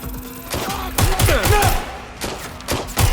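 Rapid gunfire in the video game Watch Dogs Legion, loud and close bursts of shots with sharp impacts over a busy game soundscape, no one speaking.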